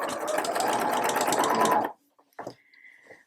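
A sewing machine runs in a steady, fast stitching burst while sewing a waistband onto stretch jeans, then stops abruptly, followed by a few quieter mechanical clicks and a short whir.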